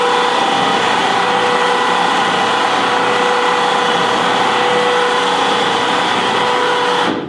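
A winch motor runs steadily while reeling cable back onto its spool under tension, a loud continuous mechanical whine with a strong tonal hum that holds evenly throughout and cuts off right at the end.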